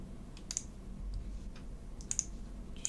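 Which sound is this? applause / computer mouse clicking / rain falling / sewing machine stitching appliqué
computer mouse clicking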